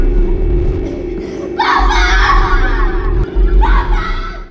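Eleven, a young girl in a Stranger Things scene, lets out two loud, harsh screams, the first drawn out and the second shorter, over a low rumbling background.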